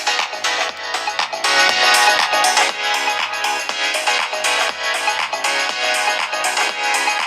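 Music played through the dual stereo speakers of a realme Narzo 70 Turbo phone, loud and continuous with a steady rhythmic beat for about seven seconds.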